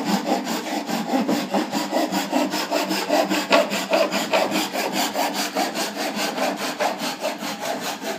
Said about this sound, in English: hand cutting method